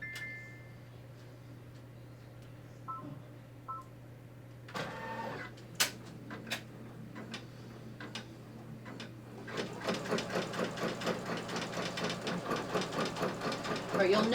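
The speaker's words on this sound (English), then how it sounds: "I'm going to press it, and it's going to do the basting stitches." An embroidery machine stitches long basting stitches around a design, first with a few isolated mechanical clicks and taps, then settling into a steady, rapid rhythmic chatter that continues to the end.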